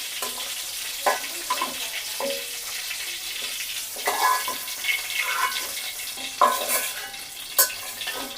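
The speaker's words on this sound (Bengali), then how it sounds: "মাছ ভাজি হয়ে গেছে, নামিয়ে নিব।" Fish frying in a pan gives a steady, close broadband sizzle with a few sharper crackles and spatters scattered through it, with no voices.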